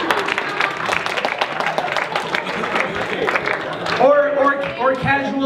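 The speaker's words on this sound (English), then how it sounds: "Round of applause for love." A comedy club audience claps for about four seconds, a dense burst of applause that fades as a performer starts talking into the microphone.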